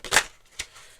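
Tarot cards shuffled by hand, heard as one close papery burst followed by a softer second one, brief and alone without talk.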